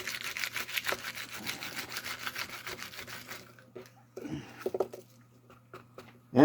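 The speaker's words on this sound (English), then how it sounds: "I don't know if you guys ever seen one of these cones for peeling garlic." Garlic cloves are worked back and forth inside a rubber garlic peeling cone, giving a close, rapid rubbing and scrubbing rasp for about three seconds, followed by softer handling noises and faint squeaks.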